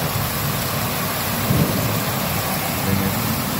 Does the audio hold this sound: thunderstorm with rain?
yes